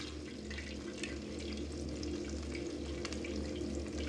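Chicken lowered into hot frying oil gives off a steady, close sizzle that holds evenly throughout, with no voices.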